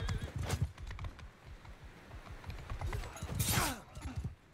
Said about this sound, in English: Everybody's riding around on their horses.